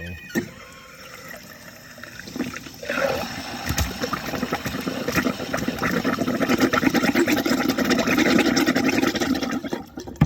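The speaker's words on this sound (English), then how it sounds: "go ahead and drain the pressure, release the pressure from the inside of the water heater or the heat exchanger" Water drains from the pressure relief valve of a tankless water heater. After a few clicks and handling sounds, a steady rushing, gurgling flow builds and carries on to the end with no talk.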